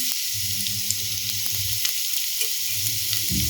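Finely chopped onion sizzles in hot oil in a pan for a snack, a steady close hiss with light scraping and stirring taps, alone and fairly loud throughout.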